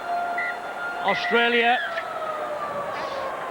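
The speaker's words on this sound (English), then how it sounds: "There's the half-time siren." Half-time siren at a 2008 rugby league World Cup match between Australia and New Zealand: a long, steady tone runs through the whole stretch beneath commentary and crowd noise.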